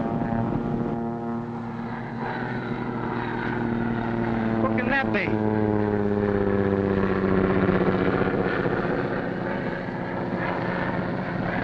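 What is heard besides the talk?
propeller airplane flying overhead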